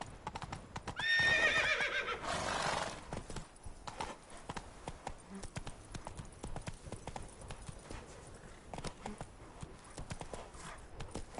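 Horse in the video game The Witcher 3 neighing loudly near the start, then its hooves clip-clopping in a quick steady gallop rhythm for the rest of the clip, close with no talking.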